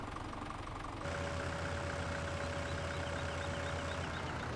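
A farm vehicle's engine runs steadily in Farm Sim 17, a constant mid-pitched drone with a sustained whine, shifting slightly in load partway through.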